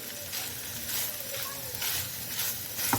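Haleem ingredients fry in a pan over a medium flame, giving a continuous, close sizzle with soft surges as they are stirred, and a faint clink near the end.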